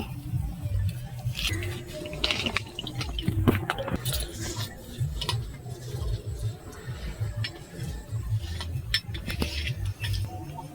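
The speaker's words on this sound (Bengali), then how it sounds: "এবার আমি হাত দিয়ে ভালো করে জল দিয়ে ফাটিয়ে নেব" Egg pakora batter is mixed by hand with water, a close, irregular wet squelching and patting with occasional light clinks against the bowl.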